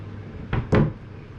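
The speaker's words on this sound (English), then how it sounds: "And then a wardrobe with, of course, never enough hangers." A hotel room wardrobe door at a resort garden suite is handled, giving two quick close knocks or thumps about a fifth of a second apart against a quiet room.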